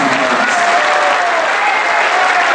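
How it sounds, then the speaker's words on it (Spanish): Steady, dense applause from a large union assembly of the Mexican Electricians' Union honoring retiring workers, loud and even throughout with no break, filling the hall. "Los vamos a recibir y los vamos a despedir con un aplauso"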